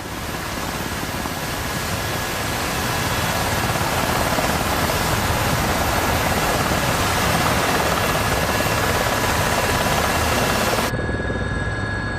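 A rescue helicopter roars close and loud, its dense rotor and engine noise sustained and steady throughout before cutting off abruptly near the end.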